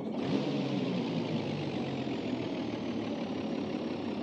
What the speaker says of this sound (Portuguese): Vamos ver como é que é o barulho do motor dele.